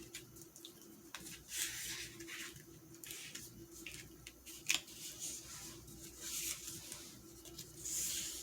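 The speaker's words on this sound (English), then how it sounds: "So you're going to fold this side into the middle." Paper is folded to make a paper dress, soft crinkling and sliding rustles in quiet bursts with one sharp crease snap midway, close and faint, no talk.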